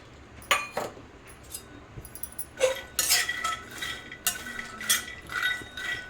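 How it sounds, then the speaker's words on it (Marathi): Peanuts rattle and scrape in a wok as a spatula stirs them during dry roasting, producing irregular metallic clinks and scratchy bursts, close and alone. "त्याच कढईमध्ये आता आपण शेंगदाणे भाजून घेऊया"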